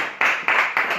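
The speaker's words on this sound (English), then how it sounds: "Let us clap our hands for Jesus." A church congregation claps hands together in three loud, broad bursts of applause across a single second, each swell rising sharply then fading slightly before the next.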